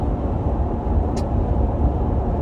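Steady low rumble of a car interior while riding, a continuous broadband road and engine drone filling the cabin with one brief high blip midway; no one talks.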